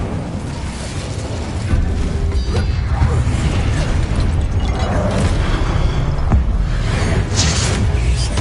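A fire spell, Incendio, cast in combat in the video game Hogwarts Legacy: a loud, sustained whooshing burst with crackling, rumbling effects and a sharp pop partway through, no talking.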